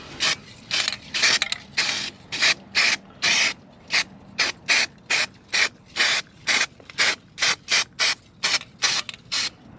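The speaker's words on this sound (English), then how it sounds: "I guess the grinding took care of it" Grinder working rust off the metal of a Mazda RX4 engine bay, sounding in about twenty short, regular bursts of harsh abrasive grinding, close and loud, with no talking.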